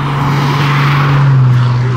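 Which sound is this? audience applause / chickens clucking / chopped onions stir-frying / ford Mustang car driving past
ford Mustang car driving past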